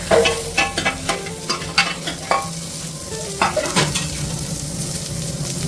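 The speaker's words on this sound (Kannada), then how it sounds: "ಇಲ್ಲಿ ನಮ್ಮ ಈರುಳ್ಳಿನ ಕೆಂಪಾಗಿ ರೋಸ್ಟ್ ಆಗ್ತಾಯಿದೆ" Onions roast in a pan for ghee rice, a steady sizzle under repeated scraping stirs and spatula knocks, close and fairly loud, with no talking.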